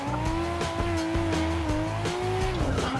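Nissan Laurel drifting on a track: the engine note climbs and dips through gear changes while tires squeal loudly, close and continuous.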